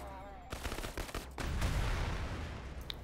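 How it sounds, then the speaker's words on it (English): Rapid gunfire and blasts from the Krankenheit video game alpha demo, a burst of sharp shots followed by a heavier rumbling explosion that sustains loudly to the end. "Ooh, love the explosions."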